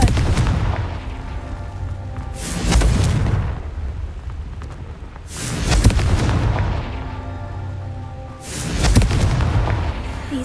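Confringo fire explosion spell in Hogwarts Legacy, three booming blasts spaced about three seconds apart, each a loud sharp burst that rumbles and fades.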